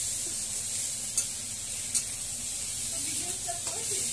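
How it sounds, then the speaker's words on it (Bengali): Potatoes and tomatoes sauté with bay leaf and dried chili, a steady broadband sizzle holding throughout with a few faint utensil clicks and background voices. "আলু আর টমেটো, তেজপাতা, শুকনো লঙ্কা সব কিছু দিয়ে কষাচ্ছে"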